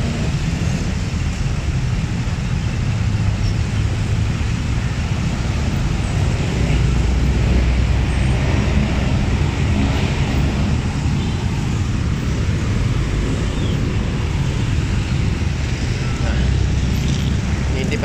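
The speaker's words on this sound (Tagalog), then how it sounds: "Traffic talaga." Congested road traffic keeps up a steady, broad rumble of engines and passing vehicles for the whole stretch, loud and unbroken, with low engine drone persisting underneath.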